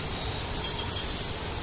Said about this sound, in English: you can only hear the crickets and stuff and certain things going on around them